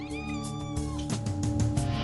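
Feral cats meow and caterwaul close by, drawn-out tonal cries one after another over a brief stretch, loud and clear with no talk.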